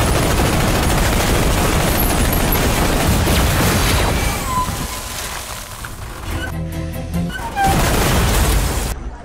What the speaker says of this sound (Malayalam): അടിയില്ല, വെടി മാത്രം.